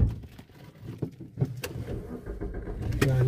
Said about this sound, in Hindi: अभी अंदर जाएगी ना गाड़ी।